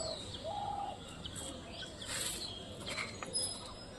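Soft bird calls, including low cooing, repeat outdoors over a steady ambient hiss, with occasional faint chirps.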